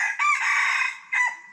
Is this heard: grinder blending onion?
no